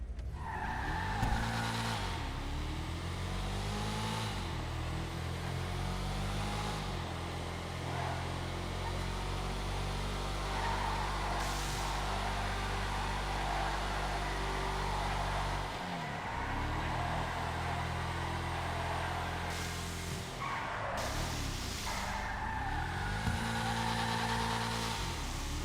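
A Bravado Vulture car in a video game drives with a steady, loud engine drone that rises and falls through gear changes, with tire squeal and skidding as it takes corners.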